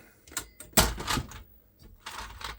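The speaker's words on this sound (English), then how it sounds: "I'm going to eject this tape" Mechanical clunks and whirring as a videotape ejects from a faulty Philips VR2021 video recorder, a loud thunk followed by a short grinding run and softer clicks, close and without speech.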